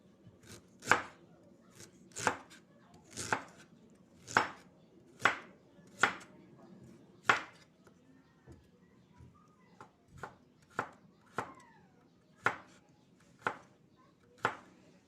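A knife chops ingredients for fish escabeche on a cutting board, a long series of crisp, close thwacks spaced roughly a second apart, some slightly uneven, with quiet background noise and no talking.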